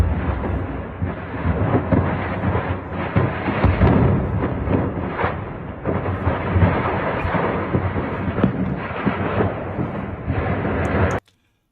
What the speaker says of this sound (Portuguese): Olha a quantidade de explosão secundária, mostrando que foi justamente um armazém ali de munição